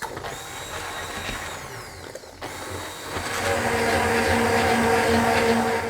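An electric blender purees a spinach, salmon and coconut milk cream, starting with a faint whir and clatter, then settling into a louder, steady motor whine after a few seconds.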